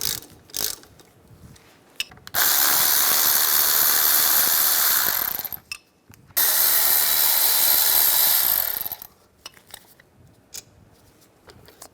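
A wrench removing the front brake caliper bolts on a 2007-2013 Mini Cooper: two loud, close, sustained rattling bursts of about three seconds each, separated by a short pause, with quiet clicks and handling noises around them and no talking.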